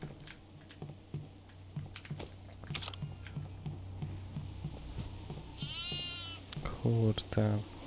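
A goat bleats in the horror video game Devour, a wavering cry rising over steady game ambience with repeated thuds and clicks, then a few louder low tones near the end; no one speaks over it.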